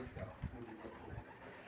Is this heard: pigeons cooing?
yes